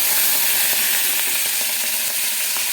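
Prawns fry in hot oil in a kadai, a loud continuous close sizzle and hiss with faint crackles through the clip.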